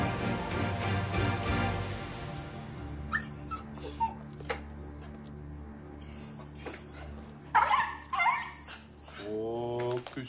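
A small dog whimpers and lets out short yips and whines in a French-language film scene, close and intermittent, over a low background hum, with a few brief higher cries near the end.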